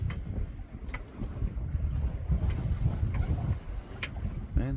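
Steady wind rushes and buffets around a small sailboat in light air off Patras, Greece, a continuous low roar with occasional splashes and creaks.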